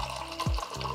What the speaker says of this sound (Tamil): இதில் வந்து தண்ணி வந்து கொஞ்சம் கொஞ்சமாக பார்த்து பக்குவமாக ஊற்றிக்கணும்.